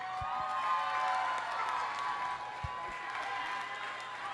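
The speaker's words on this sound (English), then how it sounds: "Cheer him on, everyone." Studio audience of a daytime talk show cheering and clapping together, a steady wash of crowd noise with a few sharper shouts rising above it, heard without any speech.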